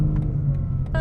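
A 2022 BMW M4 CSL engine drones in a low, steady rumble from inside the car while it is driven, with brief voices over it and a short rise near the end.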